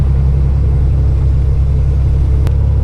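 A semi truck's engine pulls steadily in 18th gear up an on-ramp, giving a loud, constant low diesel rumble close to the listener, with no talk and only a brief faint click near the end.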